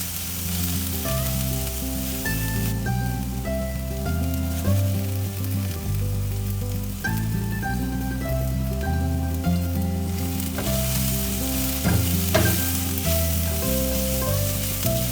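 Onions, garlic and pantry spices sizzling in a pan, a steady crackling hiss running under prominent background music for the whole stretch.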